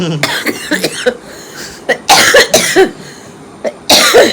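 A person coughs repeatedly in harsh, close bursts, several clustered coughs with short pauses between them, mixed with throat clearing.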